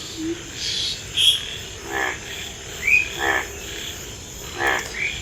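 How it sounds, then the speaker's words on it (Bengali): Frogs croak after a night storm near floodwater, several nearby calls rising in short warbling bursts roughly every second, set against a quiet hissing background. "এদিকে ব্যাঙে ডাকতেছে"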